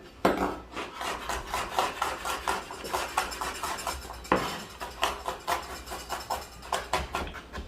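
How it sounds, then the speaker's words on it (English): Garlic chopped into small pieces with a knife on a wooden board for Egyptian molokhia, a fast, steady series of close, dry chopping taps with light rubbing and scraping between strokes, no voices. "with this garlic, we need it to be like very little pieces. So make sure we cut it good."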